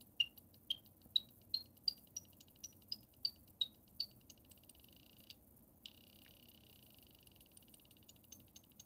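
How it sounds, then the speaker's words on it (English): A small sound gadget's metronome function gives about ten evenly spaced, sharp, high clicks. A steady electronic tone follows, with faint background hum throughout. "you can make some interesting little clicking noises"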